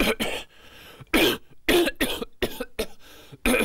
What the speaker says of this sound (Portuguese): estou a aproveitar a sua tosse.